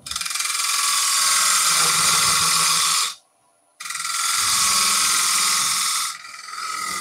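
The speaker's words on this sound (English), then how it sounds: "I need the little quarter inch bowl gouge. I'm just going to put a little detail on there." Quarter inch bowl gouge cutting a detail into spinning wood on a lathe: a loud, steady hissing scrape for about three seconds, a brief silent pause, then another long cut.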